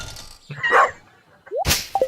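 Short game-style dog barks and yips from a dog in the farming game Stardew Valley, two bursts with a rising blip between them, fairly close and clear with no talking.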